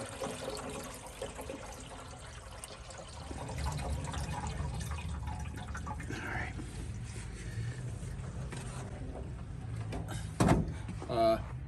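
Water is poured into the cooling system of a 1966 Jaguar E-Type OTS roadster, soft liquid trickling and filling sounds near the engine, with a few clunks and a brief louder splash, amid workshop quiet.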